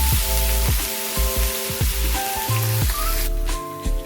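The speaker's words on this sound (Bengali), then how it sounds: "পেঁয়াজ আমাদের লাল করে ভাজা হয়ে গেছে" Onions sizzle and crackle in hot oil close up, frying until reddened, a continuous frying hiss with a steady mechanical hum and some clinking underneath.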